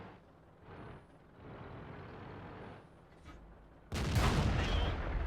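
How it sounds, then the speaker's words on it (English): A single loud, sharp cannon blast from an STA-1 tank in World of Tanks cracks out near the end, following several seconds of low engine rumble and faint background noise. "Put a good shot into the back of his turret."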